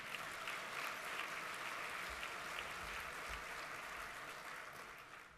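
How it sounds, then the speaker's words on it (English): Sustained applause from a breakfast crowd honoring the host committee at the Sacramento Host Breakfast, a steady, dense wash of clapping that holds evenly and fades slightly at the end. "So give the host committee members a round of applause as well."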